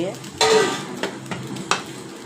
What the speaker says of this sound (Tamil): ரைஸை போட்டு நல்லா கலரி விட்டுக்கணும்.